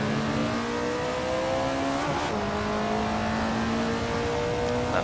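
An Alfa Romeo 33 Stradale in the Assetto Corsa racing game, its engine revving steadily and loud with rising and falling pitch through gear changes, a brief squeal near the middle, no voices.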